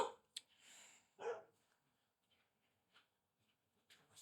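A dog barks in another room: a few faint, muffled bursts with quiet gaps between them.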